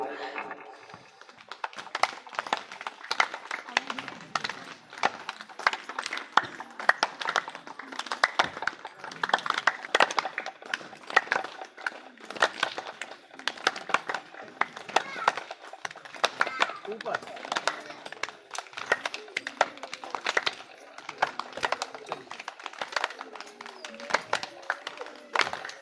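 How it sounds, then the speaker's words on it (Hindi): A group clapping hands together in unison during an outdoor yoga session, with a young child among the participants; many sharp, rapid claps repeat steadily throughout, and voices talk over them. "चलिए इसके बाद हम लोग ताली बजाएंगे"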